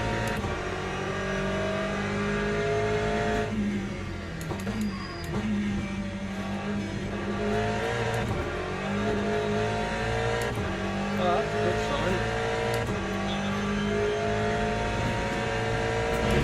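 Racing car engine sound in OMSI 2, a steady layered engine drone with shifting tones and occasional rising revs, continuous and fairly loud throughout, with no clear single pass-by standing out.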